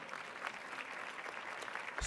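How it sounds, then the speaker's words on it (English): A conference audience at a NARAL Pro-Choice America event gives a round of applause, heard as steady, fairly quiet clapping filling the whole moment with no voices over it. "So give yourselves a round of applause for being here today."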